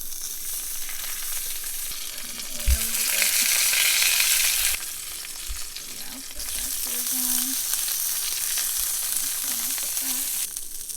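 A sesame-crusted tuna steak sears in a hot pan with a continuous loud sizzle. The sizzle swells in two bursts as the fish is turned, with brief thumps and scrapes and no voices.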